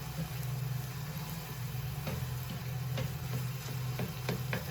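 Sofrito and crumbled ground meat sizzle in a pan while being stirred, a soft steady frying hiss with scattered scraping taps from the utensil, fairly quiet with a low hum beneath.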